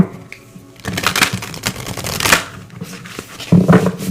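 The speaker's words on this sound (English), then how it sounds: "let's pull a few more cards here" Tarot cards shuffled by hand up close, loud rapid papery flutters and riffles in several bursts with short pauses between them, no voices over the shuffling.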